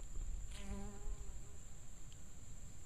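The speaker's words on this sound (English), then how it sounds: "There's some little black bees, bumblebee looking bees, only smaller." Small black wild bees, about honeybee size, buzz faintly in flower pollen in a garden, one brief nearer buzz rising over a steady high outdoor hum.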